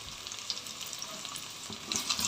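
Cut potatoes drop into onions sautéing in a pan for a potato cream gravy, a soft, steady frying hiss with a few faint stirring scrapes, quiet and close, no voices.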